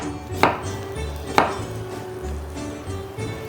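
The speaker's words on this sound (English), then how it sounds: "I can even run through the onion this way." A knife cuts through an onion on a cutting board while moussaka is being made, with two sharp, distinct chops about a second apart followed by softer slicing sounds.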